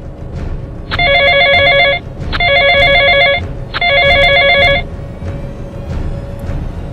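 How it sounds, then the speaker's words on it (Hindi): An outgoing telephone call rings three times in steady electronic bursts, each about a second long with short gaps, loud over a low background hum. "केड़ा उस्ताद को फोन करता हूँ"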